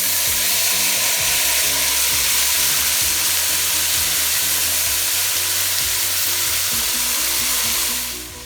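Frozen vegetables, potatoes and chickpeas sizzle loudly in a pot for a Jamaican-style vegetable curry. A dense, steady frying hiss is broken by regular stirring knocks, then fades at the end.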